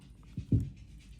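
Dog panting as it approaches, a couple of short soft breathy puffs close by, faint and brief in an otherwise quiet room.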